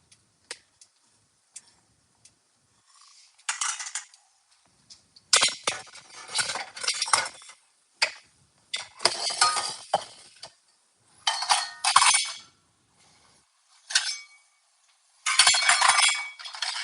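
Metal spoons and cutlery clink in a hotel room kitchen, scattered light rattles and handling bursts coming close and clear with short pauses between, no talking.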